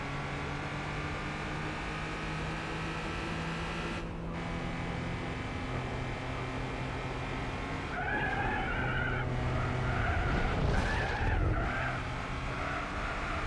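A BMW in Gran Turismo 4 drives with a steady engine drone, then its tyres break into loud squealing skids in the latter half, with a couple of sharp screeching bursts over the running motor.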